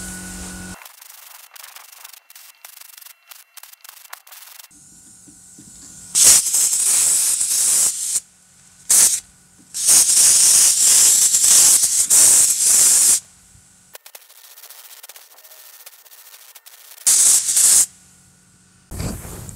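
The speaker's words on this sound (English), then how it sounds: "I think it's safe to say that that blaster is damn effective" Bead blaster sandblasting parts from a BMW E31 850i, loud hissing bursts of abrasive and air that start and stop in several blasts of a few seconds each, with quieter pauses between.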